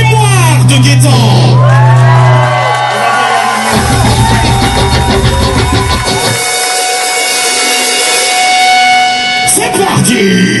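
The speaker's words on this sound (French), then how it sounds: "Alors je veux un tonnerre d'applaudissements pour la mémoire de Gaëtan." A crowd cheers and whoops at a tribute, with loud, dense shouting and applause-like noise sustained throughout and a few shrill voices rising over it.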